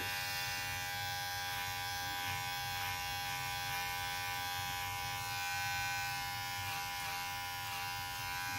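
Electric hair clippers fitted with a 1/8 inch guard run through hair during a light trim, giving a steady, close electric buzz that holds constant throughout.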